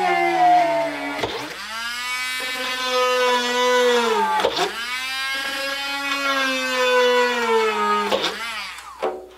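Dremel rotary tool whining at high speed while drilling 1/16 inch servo mounting holes, with three bursts where the pitch dips sharply under load and then climbs back, loud and close.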